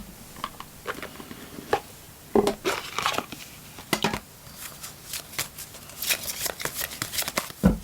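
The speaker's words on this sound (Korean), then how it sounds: "제가 추가 조언 카드들을 뽑아보도록 할게요" Tarot cards are shuffled and drawn at close range, giving repeated crisp riffling and slapping bursts with short pauses between them and no voice over the sound.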